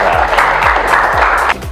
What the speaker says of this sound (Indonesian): Oke, tepuk tangan untuk Nisbi.